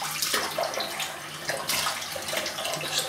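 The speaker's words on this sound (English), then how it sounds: "I'm going to add some water to this," Water runs steadily into a bowl of Barrister and Mann Seville shaving soap, a continuous close splashing trickle with no talking.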